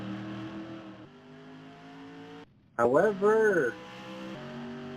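A race car lapping at Evergreen, its engine holding a steady, loud drone, briefly dropping away before a louder, rising pass with someone speaking over it.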